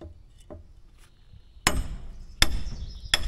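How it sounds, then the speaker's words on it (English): A big hammer strikes a steel drift on a 1950 cable shovel being repaired after sitting over 20 years. Three loud, sharp metallic blows land close by, each with a ringing tail, after some quieter knocks. "So we're going to get a drift and a big hammer and start driving this thing."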